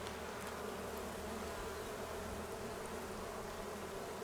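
Honey bees in early spring at an open hive make a dense, continuous buzzing hum, close and steady throughout without talking.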